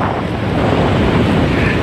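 Roaring hurricane wind from Hurricane Maria in Bridgetown, Barbados, beside a very rough sea, buffeting the microphone as a loud, continuous rush.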